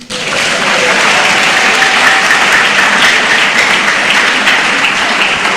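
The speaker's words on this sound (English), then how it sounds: "I think you have to clap a bit more." An audience at an inaugural lecture claps steadily and loudly, a dense, even wash of many hands that keeps going without a break after a short start.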